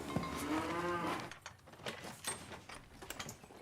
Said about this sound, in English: Can you get these cows out of the way?